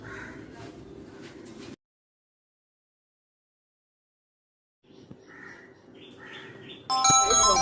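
A phone ringtone from an incoming call bursts in loudly near the end. Before it come quiet talk and a stretch of near silence.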